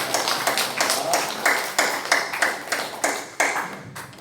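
A church congregation at a Sunday worship service claps together in a rhythmic beat, with loud, evenly spaced hand claps filling the room and no voices over them.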